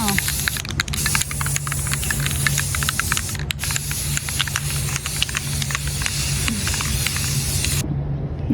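An aerosol can of crystal clear sealant hisses in a steady, close spray over blue spray paint on an old plant stand, continuing almost without break before cutting off at the end.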